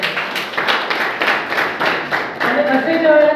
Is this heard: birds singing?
no